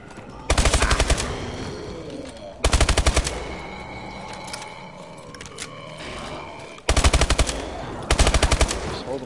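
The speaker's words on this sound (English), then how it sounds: "This gun is awesome." Automatic gunfire from a weapon in the video game Exo Zombies rattles out in four loud, rapid bursts separated by quieter gaps of game ambience.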